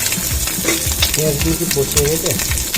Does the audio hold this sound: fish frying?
yes